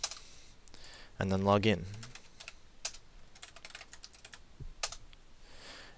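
A computer keyboard is typed on in scattered, quiet clicks and short bursts of keystrokes, with a person speaking briefly over them.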